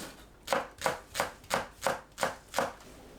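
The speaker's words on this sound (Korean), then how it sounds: "파를 작게 썰어주세요" Green onions chopped with a knife on a cutting board: seven even, crisp chops in a steady rhythm, close and clear with no talking.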